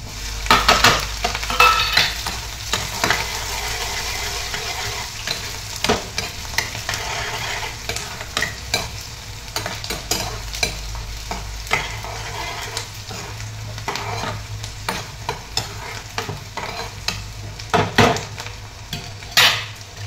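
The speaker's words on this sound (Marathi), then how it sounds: "त्यानंतर हा बारीक केलेला कांदा टाकायचा." Finely chopped onion fries in a pan over a wood-fired clay stove. A spoon scrapes and clatters against the metal in repeated bursts over a steady sizzle, with no voices.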